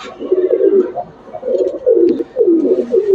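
A Kaldam pigeon coos close by, repeating low, rolling phrases in a steady rhythm with short pauses between them.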